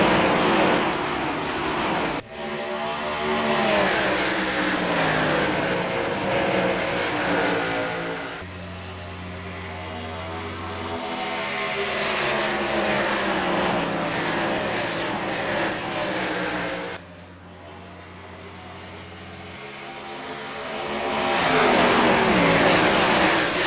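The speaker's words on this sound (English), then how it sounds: "picking up speed off of turn 2, dropping down under Kurt Busch, up to the back bumper of Truex" Race cars in NR2003 with the 2008 Car of Tomorrow carset at Dover, engines roaring and accelerating in a continuous loud drone, pitch rising and shifting as cars pass and draft.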